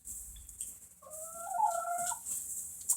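A chicken clucks and croons softly in a few drawn-out calls, close by against a quiet background.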